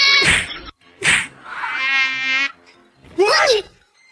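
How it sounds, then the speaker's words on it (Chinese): A mosquito whines in a thin, buzzing drone for about a second, set between sharp hand slaps and whacks as someone swats at it indoors. "我打蚊子呢，蚊子把你手都叮红了。"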